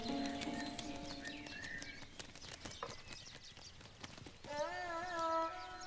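Small birds, sparrows, chirp and twitter near a wheat field in a rural animated scene, with bright whistled calls rising near the end over steady background sound and music.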